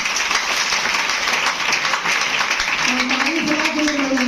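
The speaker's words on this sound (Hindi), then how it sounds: "एक जोरदार ताली हो चाहिए।" A crowd at a distributor and business meeting in Patna applauds loudly and steadily for Dharmshila ji, the dense clapping holding throughout with a voice speaking over it near the end.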